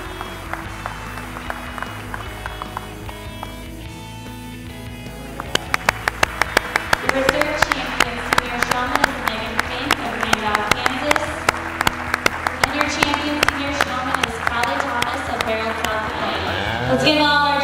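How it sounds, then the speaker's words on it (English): Audience at a Charolais junior nationals stock show breaks into applause for junior showmen, a dense burst of many hands clapping that starts a few seconds in and stays loud and continuous, with a voice speaking through it. "give the kids a very deserving round of applause"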